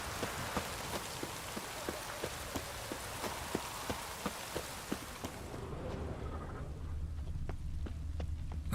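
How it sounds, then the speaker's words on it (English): Steady rain pattering on surfaces in The Witcher 3: Wild Hunt, with sharp drip-like ticks throughout; the rain thins out about halfway, leaving a low rumble and scattered drops. "Looks like rain."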